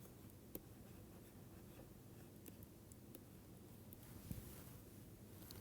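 Handwriting during a mathematics lecture, likely chalk or pen strokes, heard as faint, steady scratching with a few light taps against a quiet room hum, no talking.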